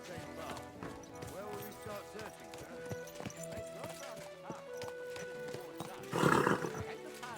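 Horse hooves thud and a horse neighs in Kingdom Come: Deliverance II, alongside music and game sounds, with a louder burst near the end and people speaking over it.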